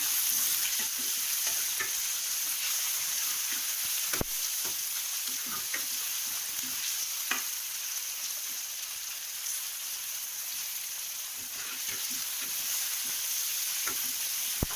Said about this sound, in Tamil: நல்லா தக்காளி வதங்கணும்.